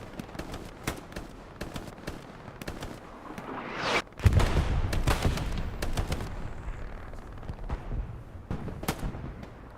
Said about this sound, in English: Get a glimpse of the chaos that is being artilleried on Foy.